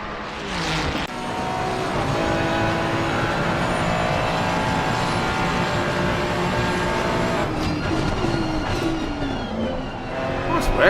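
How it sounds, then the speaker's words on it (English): Ferrari race cars drag racing side by side up Mountain Straight at Bathurst in a PC racing game, their engines a loud, sustained, overlapping roar with rising pitch, and commentary running over it. "it's going to be a drag race. Ferrari versus Ferrari."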